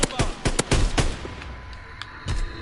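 Rapid gunfire in a PS4 shooter game, a burst of close, sharp shots followed by sparser cracks further off, with a voice talking over it.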